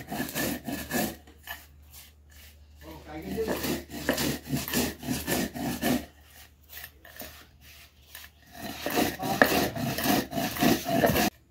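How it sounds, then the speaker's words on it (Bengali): Spices being ground by hand on a stone grinding slab, rhythmic scraping and rubbing strokes in bursts with short pauses between them, loud and close. "আপনারা মিক্সিতেও বাটতে পারেন, আমি শিলে বেটে নিচ্ছি।"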